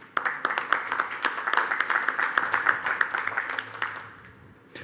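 Audience applause at an international forum on industrial hemp, a steady patter of many hands clapping from a moderate distance that carries on for several seconds and then fades out, with no speech over it.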